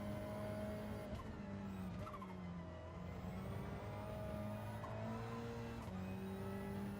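Car driven in a video game, engine tones rising and shifting with repeated tire skids and squeals over several seconds, quiet in the mix.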